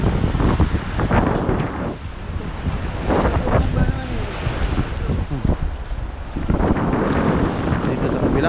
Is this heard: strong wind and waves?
yes